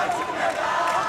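A crowd roars and cheers at an adult jiu-jitsu final, a loud sustained swell of many voices with a commentator speaking over it.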